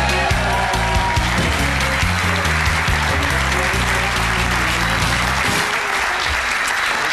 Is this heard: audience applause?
yes